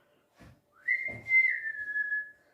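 A person whistles alone, imitating a father's signature calling whistle: one sustained, fairly quiet tone held for about a second and a half after a couple of soft breaths.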